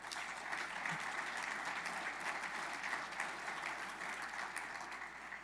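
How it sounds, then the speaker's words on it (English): Steady audience applause for sponsors at an energy summit, a dense even wash of many hands clapping from a seated conference crowd, moderately distant and sustained throughout without talk. "Please, let's give one more round of applause to all of our sponsors."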